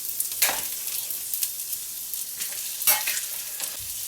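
Bacon fat frying in a pan for a carrot potato hash, giving a soft, steady sizzle with a few brief crackling bursts and stirring sounds. No one speaks.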